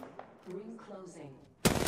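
Someone talks over quiet game sound, then a sudden loud burst of rapid gunfire erupts in an Apex Legends match and continues to the end.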